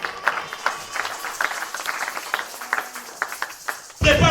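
A church congregation claps in acclamation of the Lord, a run of sharp, fairly regular hand claps with voices underneath, ending in a sudden louder burst of noise.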